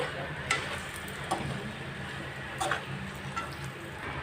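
Eggplant coconut curry stirred in a pan on low heat, with soft scraping strokes and a few light clinks over a steady faint sizzle, no talking.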